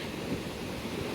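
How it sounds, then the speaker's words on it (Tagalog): Rough sea waves after a typhoon, a constant loud wash of churning surf mixed with wind buffeting the microphone, with no voices. "Nagagalit yung alon."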